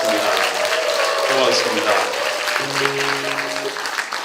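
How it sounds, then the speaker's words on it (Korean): Audience applause at a Korean talk concert for cancer survivors and medical staff, a steady wash of clapping running under a speaker's voice and music throughout. "김범수 선생님께 다시 한번 큰 박수 부탁드리겠습니다"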